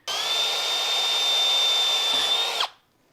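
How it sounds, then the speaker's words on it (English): A power drill bores into an electrical connector on a car's interior trim, a steady high whine running for about two and a half seconds before cutting off abruptly. "So I am probably going to drill the electrical connector first"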